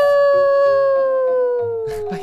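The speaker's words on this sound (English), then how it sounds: "the wind is really howling this morning" Howling wind in the Minecraft game, a loud, steady wolf-like moan that slowly falls in pitch across the whole stretch, with a few brief higher bursts near the end.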